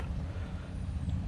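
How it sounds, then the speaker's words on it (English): A steady, deep rumble rolls on without a break, low and muffled like distant thunder. "you can hear the thunder in the background"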